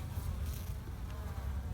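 Newly emerged worker bees buzz in a dense, steady low drone, a close swarm humming continuously without pause or voices.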